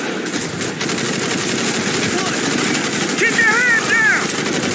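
Call of Duty Black Ops gunfire crackles in fast, loud automatic bursts during a firefight, while shouted military commands sound over the shooting.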